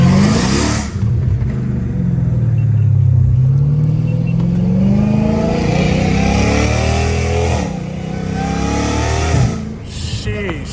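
A catless Dodge Hellcat Redeye roars from inside the car while driving at night, its engine and exhaust droning loudly and rising and falling with repeated revving pulls, with a voice talking over it.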